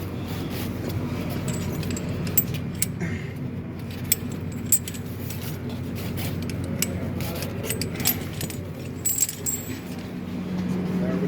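An army snow chain being pulled tight on an LMTV military truck tire, with jangling and clinking chain links close by over a low idling vehicle hum, and a person talking now and then.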